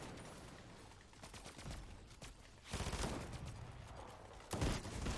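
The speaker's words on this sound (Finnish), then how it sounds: "Mä ammun snipulla, hei, kato snipulla päähän." Gunfire in Fortnite Chapter 5, with sniper rifle shots among the bursts: a dense run of cracks and blasts with a few louder, sharper reports standing out over a constant game background.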